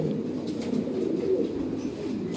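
Lahori Siraji and Bombay pigeons at a pigeon farm, a steady low murmur of overlapping coos from many birds, continuous and moderately loud.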